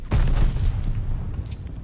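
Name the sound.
sticky bomb explosion in video game Call of Duty Vanguard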